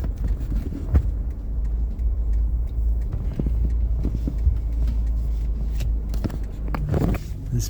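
Dense road traffic during Cyclone Gabriel between Te Pohue and the Napier/Taupo turnoff, a steady low engine rumble from many vehicles close by, with passing cars and occasional footsteps, no talking.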